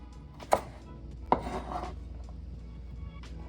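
A knife cuts plantain into pieces on a board: two sharp, close chops a moment apart, then quiet kitchen background.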